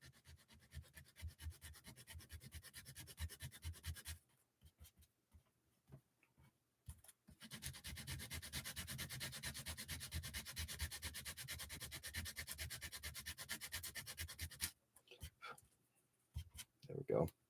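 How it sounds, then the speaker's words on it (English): Sanding a plastic corner with 120-grit sandpaper makes a close, rapid back-and-forth scratching rasp in two long runs split by a pause, with short strokes near the end. "I'm sanding the corner down to see if I can get the plastic just thin enough to tuck in underneath"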